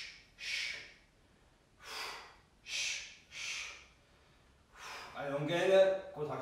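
Forceful exhales through the mouth during a fat-burning fitness workout: four or five strong, breathy puffs spaced about a second apart, close and clear, followed by an instructor talking.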